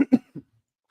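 Three quick coughs close to the listener, two sharp bursts in fast succession followed by a softer third, then silence.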